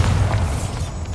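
A Bombarda blasting spell cast in the Hogwarts Legacy video game, heard as a deep, forceful boom with a rumbling low-end burst that fades slightly toward the end, and no speech.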